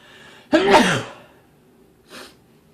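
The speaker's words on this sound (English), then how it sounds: "Oh god, I gotta sneeze, dang it." One loud, close sneeze bursts out sharply, followed after a pause by a brief, softer sniff.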